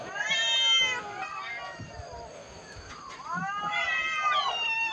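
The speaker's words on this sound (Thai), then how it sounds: "เหมียวบ้านใหญ่อ้อนจังเลยเหรออ้อนจังเลย" A cat at a temple animal shelter in Lampang, Thailand, meows close up in several drawn-out, pleading calls, with a quieter pause between bursts.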